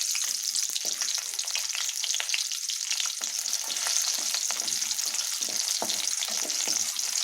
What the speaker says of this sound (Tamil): எண்ணெய் சூடாயிடுச்சு. இப்போது வெங்காயம் ஆட் பண்ணிக்கலாம்.